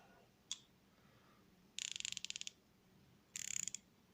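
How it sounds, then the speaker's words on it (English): A Nepros long-handle 1/4 inch drive 90-tooth ratchet clicks in two quick bursts of fine, rapid metallic ticks after a single click, close and clear in a quiet room. "So it's the Nepros long handle 1/4" drive ratchet."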